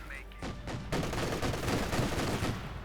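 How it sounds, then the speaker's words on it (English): Rapid bursts of 20mm autocannon fire in the real-time strategy game Company of Heroes 2, a dense rattling volley that starts sharply and keeps hammering for a few seconds, loud and close. "Rifleman there getting plastered with 2 centimeter auto cannon fire"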